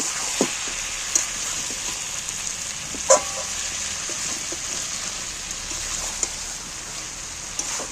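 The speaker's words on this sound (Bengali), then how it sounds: "তবে এইবার আমি টমেটোগুলো তুলে দিচ্ছি" Tomatoes going into a pan of frying jackfruit curry give a steady, close sizzle with broadband crackle, punctuated by a few sharper pops and spatters, no talking.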